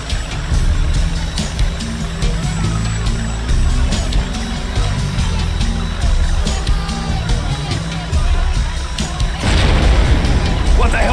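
Heavy explosions boom through the combat game Delta Force: Black Hawk Down, a continuous loud roar with rumbling low end and a sharper blast near the end, under engine noise and voices.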